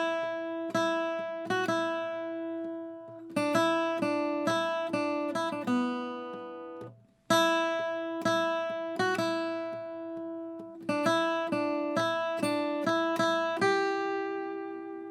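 An acoustic guitar plays the bridge melody of a song alone, plucked, with phrases of ringing single notes separated by brief pauses.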